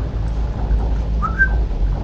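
Short rising whistled bird call in the computer game Geneforge, one brief tone over a steady low hum of game ambience.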